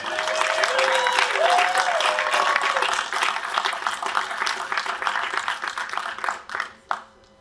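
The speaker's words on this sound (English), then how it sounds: "can we get some applause for the Hope staff" Audience applause at the HOPE hacker conference demoscene talk, a loud sustained burst of many people clapping that thins into scattered claps and tapers away near the end.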